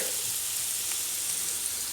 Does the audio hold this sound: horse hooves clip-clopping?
no